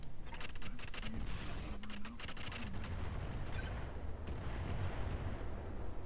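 Weapons firing in the mech video game Roguetech, a faint, busy run of booming shots and metallic clatter over several seconds.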